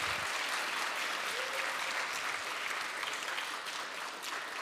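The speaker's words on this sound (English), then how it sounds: "Applause for the suspense." A large audience applauds steadily at the EOES 2023 closing ceremony in Riga, Latvia, just before gold medals are awarded. The clapping is dense and sustained for the whole stretch, with no talk.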